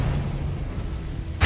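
A Confringo blasting spell from a Harry Potter video game explodes in a sudden, loud, brief burst at the very end, following a low steady rumble.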